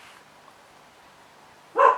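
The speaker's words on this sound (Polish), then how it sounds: "pies akurat musiał się teraz rozszczekać" A single dog bark pops out near the end, moderately loud and close, after a stretch of faint room noise.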